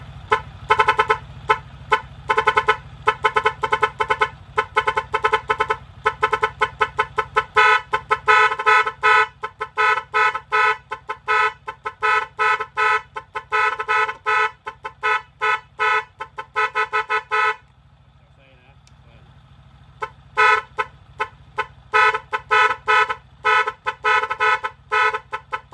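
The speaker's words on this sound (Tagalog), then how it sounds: "Yung apat na busina natin, kayang-kaya natin." A set of four car horns honks in loud, repeated rhythmic bursts that play a tune, with one brief pause partway through and no talking.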